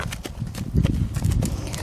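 Horse hooves clop in an uneven rhythm as the horse moves forward in a circle around a handler standing on the ground during groundwork, close by with low thuds and scuffs.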